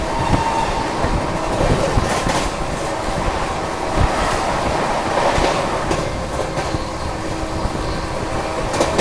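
The Ranchi Rajdhani Express rushes past Fatehpur, giving a loud, steady roar of rolling coaches with rhythmic clatter and wind noise, heard close from the train.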